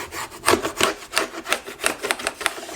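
Fabric being cut into bias tape strips with a rhythmic series of rasping, scraping strokes, about ten close, even pulses over a few seconds with no talking.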